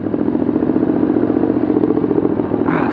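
A 2022 Ducati Monster motorcycle on a test ride, its engine giving a loud, steady, rumbling drone with fast throbbing pulses close by, and a brief burst of wind or road noise near the end.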